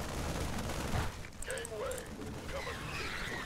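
Gunfire from an attack in the video game StarCraft 2, a dense crackling fusillade running steadily throughout, mixed with game effects and a voice talking over it.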